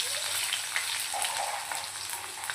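Mustard seeds, green chili and cumin crackle and sizzle loudly in hot oil alongside roasted peanuts for rava upma, a close, dense, steady frying hiss with no talk.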